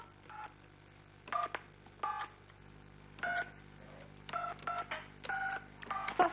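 Telephone number dialed on a keypad, producing a run of short separate touch-tone beeps in uneven groups, fairly faint and clear over a quiet background with no talking.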